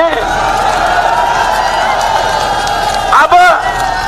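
Rally crowd at a Tiranga rally in Jaipur applauding for the media, a loud, steady wash of clapping and cheering that holds throughout, with a brief whoop near the end.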